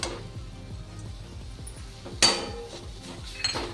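Jaggery and grated coconut being stirred together in a pan for modak filling, a steady rhythm of soft scraping strokes with a sharp metallic clank midway and a lighter clink near the end, close and clear, no talking.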